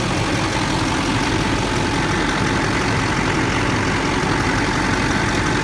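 A truck engine idles steadily in a garage during an oil change, a loud, continuous, even rumble with no talking.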